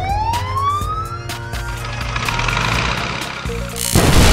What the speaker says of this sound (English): Is a police car.